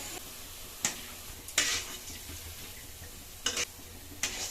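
Boondi batter frying in hot oil for a sweet boondi, with a steady crackling sizzle and several sharp scraping clinks of a ladle against the pan spaced through it.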